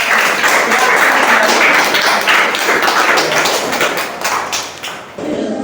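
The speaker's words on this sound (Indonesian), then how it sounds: "tepuk tangan untuk kelompok" Classroom applause for a student group during an Islamic studies lesson, with steady loud clapping from many pupils lasting several seconds before it tapers off near the end.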